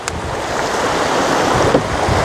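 Water of the Jayanti river rushes steadily under strong gusting wind that buffets the microphone, a loud, broad, continuous roar outdoors with no voices.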